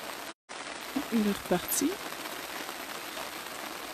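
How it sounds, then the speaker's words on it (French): Steady rain falling outdoors, a constant hiss of drops throughout, with a few brief voices speaking over it near the middle. "il pleut de plus en plus"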